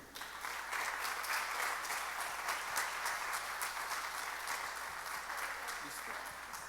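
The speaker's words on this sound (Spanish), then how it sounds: "Pero un aplauso fuerte al que vive." A church congregation applauds loudly and steadily throughout, a dense continuous clapping with no break from start to finish.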